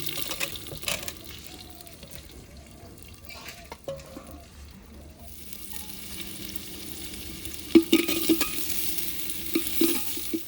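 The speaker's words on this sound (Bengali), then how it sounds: "এবার দিয়ে দেবো পেঁয়াজ কুচিগুলা, পেঁয়াজ কুচি আর টমাটোর কুচি" Chopped onion and tomato fry in a pot while making Bengali-style handi chicken, a steady sizzle broken by a few sharp stirring clatters and a louder burst of frying near the end.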